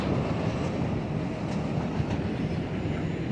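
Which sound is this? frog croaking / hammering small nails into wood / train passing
train passing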